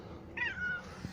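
A single short meow from a small kitten, close and clear, over a faint background hum.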